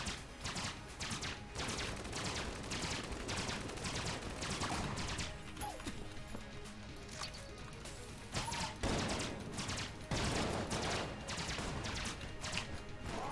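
Repeated gunfire from a weapon in the video game Enter the Gungeon, bursts of sharp shots and impacts in irregular clusters over a busy game soundtrack.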